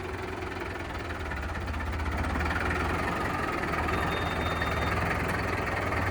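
A tractor engine, a John Deere or a Mahindra 575, runs steadily in a muddy field, a continuous rumbling idle with a mechanical drone that swells slightly after the first seconds, no talk.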